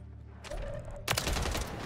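Gunfire in the Call of Duty Warzone video game: one sharp, loud shot bursts in and leaves a dense noisy tail behind it, over steady game background noise.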